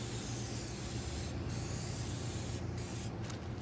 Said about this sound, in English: Dye penetrant on the surface of the weld.